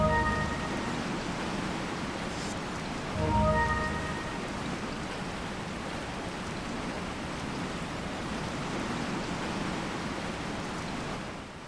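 Heavy rain in the video game Resident Evil 4 pours as a dense, constant hiss that never lets up, with a brief low thump and a faint tone near the start and nobody speaking.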